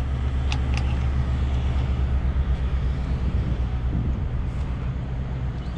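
A vehicle idles and pulls a trailer out, its low engine rumble steady and close, with wind buffeting the microphone throughout and no talking.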